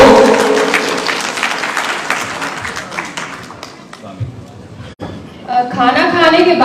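Audience applause at the Uttar Pradesh Homeopathy Gaurav Samman 2023 awards ceremony starts as dense, loud clapping. It fades after a few seconds, and a voice with crowd chatter rises near the end.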